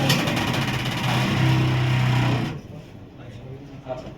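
A lab centrifuge spinning up to 3500 rpm to prepare PRP gives a steady motor hum and whine for about two and a half seconds. It then cuts off abruptly, leaving quiet room sound.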